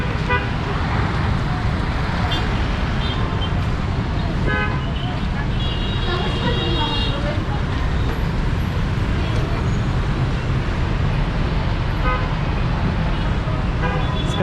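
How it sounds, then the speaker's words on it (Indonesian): Congested street traffic beside Jatinegara market in East Jakarta, with a steady dense roar of cars and buses and short horn toots sprinkled throughout, while voices chatter in the crowd nearby. "Macet."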